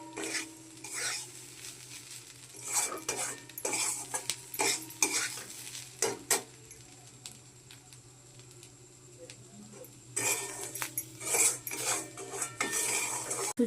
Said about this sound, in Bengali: সুজিটা আমার লাল লাল করে ভাজা হয়ে গেছে।